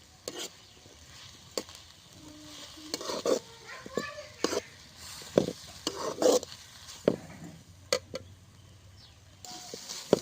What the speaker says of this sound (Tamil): பாருங்க நல்லா வதங்கிடுச்சு